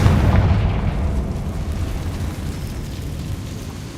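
A Confringo spell explosion in the game Hogwarts Legacy: a loud, deep boom at the start that rumbles and slowly fades over a few seconds, with no voices.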